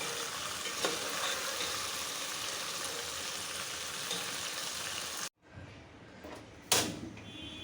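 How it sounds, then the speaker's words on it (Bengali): Polao rice frying in a pot after braised meat, with a dense steady sizzle and stirring for about five seconds, then it cuts off to quieter clatter and a sharp knock. "চালটা ভাজা হয়ে গেছে"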